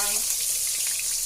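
Garlic, onion and aromatics hitting hot oil for Filipino tinola, a steady bright sizzle with faint crackles throughout, close and moderately loud, no talking.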